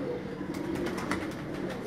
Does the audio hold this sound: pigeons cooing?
yes